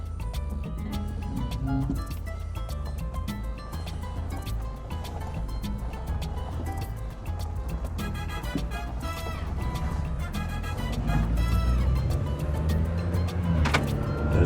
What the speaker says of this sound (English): So let's take her for a spin around the block.